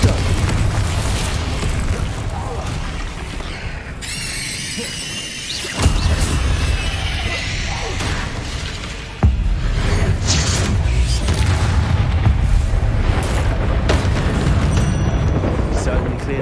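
Confringo explosive spell blasts from the Hogwarts Legacy video game boom loudly amid continuous dense combat noise, with two sharp explosive hits standing out and a constant rumbling roar throughout.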